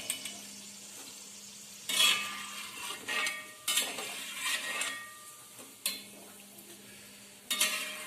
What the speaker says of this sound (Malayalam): അപ്പം നമ്മുടെ വെളുത്തുള്ളി നന്നായിട്ട് മൂത്ത് വന്നിട്ടുണ്ട്. നമുക്കത് കോരി നമ്മൾ ഇടുകയാണ്.